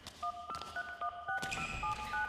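A telephone keypad being dialed in a Telugu dubbed horror film: a rapid run of distinct touch-tone beeps, near and clear, over a low background rumble, with no one talking.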